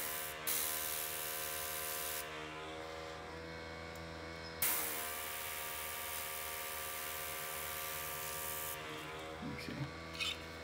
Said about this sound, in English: You can go ahead and test spray it on your glove or your hand.